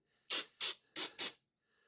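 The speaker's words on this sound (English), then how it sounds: "I'm spraying the tail" An aerosol can sprays onto the tail of a Gaslands tabletop model dino rig in four short, close hissing bursts, two paired quickly, then two more, with silence between.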